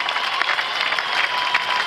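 Continuous crowd applause at an official church event in Congo, dense and even clapping with no pauses over the brief stretch.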